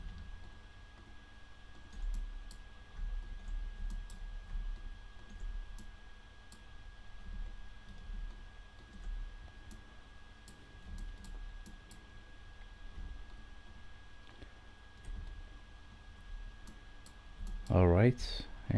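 Scattered keyboard taps and mouse clicks during 3D modeling work in Blender, soft and close, irregular single clicks spread across the span, with a faint steady hum beneath and a brief louder burst near the end.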